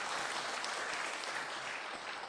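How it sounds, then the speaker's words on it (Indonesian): Audience applause at a Buddhist Dharma talk, a steady dense wash of clapping from a crowd that stays loud and even throughout, with no talk over it. "Tepuk tangan tuh."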